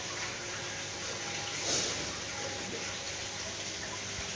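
Water from a koi pond waterfall driven by two small pumps, a steady rushing splash that stays constant throughout at moderate level, with no other sounds.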